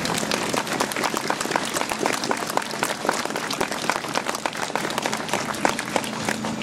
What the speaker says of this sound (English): You're all clapping, but it was an apology.